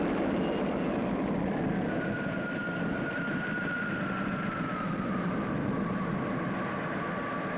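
A spaceship engine takeoff effect from a 1962 science fiction series: a steady, distant low roar with a faint rising whine sliding across it, constant in loudness throughout.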